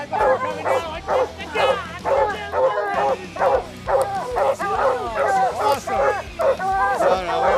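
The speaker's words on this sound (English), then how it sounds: "Hear the dogs behind me." Hunting dogs chasing a black bear bark, yip and whimper in a dense, near, continuous chorus of overlapping calls, with faint human talk mixed underneath.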